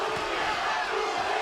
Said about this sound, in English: Just past the halfway point of round 6, the crowd chanting Molina.